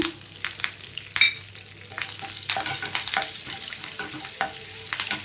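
Dried red chillies and curry leaves fry in hot oil, a busy crackling sizzle with scattered pops and stirring scrapes, close and steady throughout.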